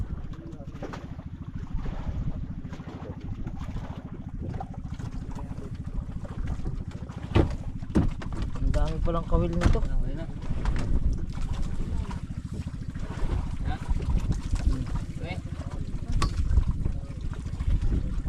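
A large wooden boat's engine drones steadily at sea, a constant low hum under wind and water noise, with brief speech and a few knocks partway through.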